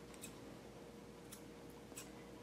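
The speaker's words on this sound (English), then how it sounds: "So I'm just going to lightly kind of trim it up at the bottom." Scissors trim a Maltipoo's ear fur with a few faint, close snips spaced apart over a low steady room hum.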